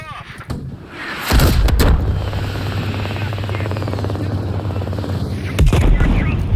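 A helicopter takes heavy gunfire in Call of Duty: Black Ops Cold War, with a loud steady rotor thump under bursts of machine-gun fire and booming impacts, while voices talk over the chaos.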